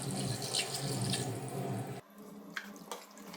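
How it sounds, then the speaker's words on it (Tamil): Water runs steadily from a tap into a cooking pot, then drops off to lighter trickles and a couple of drips. "தேவையான அளவுக்கு தண்ணி இது சேர்த்துக்கலாம்"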